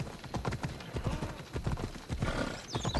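Horse hooves clip-clopping at a riding pace in Assassin's Creed Odyssey, a steady rapid rhythm of close hoof strikes with a brief whinny near the end, no talk.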